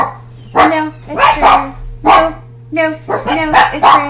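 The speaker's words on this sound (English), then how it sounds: "The dogs always go crazy when somebody walks in." Several dogs bark excitedly as someone walks into a house, sharp repeated woofs in bursts across a few seconds, loud and close, with a steady low hum underneath.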